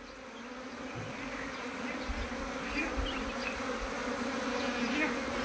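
Honeybee swarm settling around a bee box, a dense, continuous buzzing hum from many bees, close and steady, gradually swelling slightly with occasional soft knocks underneath.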